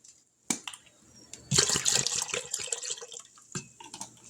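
Two 8-ounce bottles of apple juice are poured into a pot holding pork on a trivet, making close splashing and gurgling liquid sounds in short bursts with quiet clunks between.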